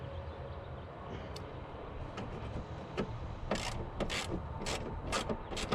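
Bolts being loosened on the alternator of a 1997 Cadillac Seville SLS with a Northstar engine, with close ratchet clicks coming in quick irregular runs over a steady background hum.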